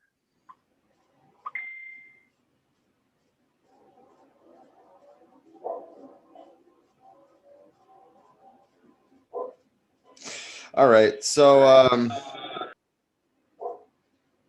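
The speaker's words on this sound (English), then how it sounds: "my dogs are barking" Dogs bark in a short muffled burst from somewhere away from the microphone, a few clustered yelps and barks after scattered faint clicks, with a brief spoken phrase nearby.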